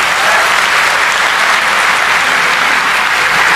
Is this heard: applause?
yes